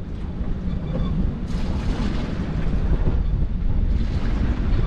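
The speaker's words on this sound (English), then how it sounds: "it's getting windier and windier" Strong wind buffeting a sailboat at sea, a steady roaring rush with heavy microphone wind noise and gusts that swell and fade, loud and continuous.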